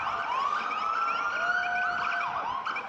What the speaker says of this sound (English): now we are hearing the sirens of the city. That means the first responders are here.